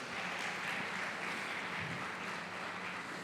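Congregation clapping during a church service: dense, even applause held at a steady level throughout, no single claps standing out, with no speech.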